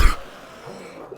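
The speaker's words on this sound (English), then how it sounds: "I was kind of hoping not to cough this entire video, but I guess I did." A person gives a single sharp cough at the start, followed by a faint throat-clearing rasp that trails off quietly.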